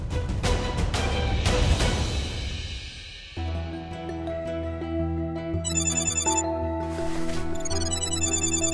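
A phone rings with a repeating electronic ringtone pattern, fairly clear and close, after a brief burst of other noise.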